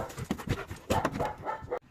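A dog pants in quick, rhythmic bursts close by on a beach after swimming, with brief pauses between breaths.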